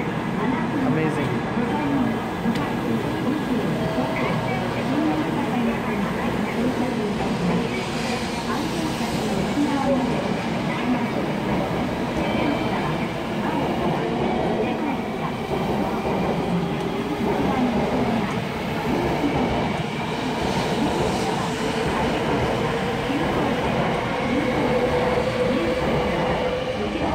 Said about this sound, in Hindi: Again on time 11:04 sharp train start, amazing.